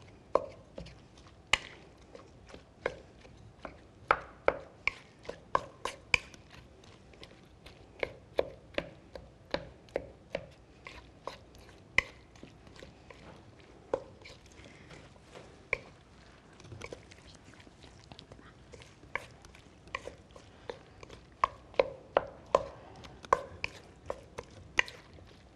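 Food is mashed in a kitchen with a long run of soft, irregular taps and squishy thuds. The sounds are fairly quiet and close, with a steady patter of small impacts.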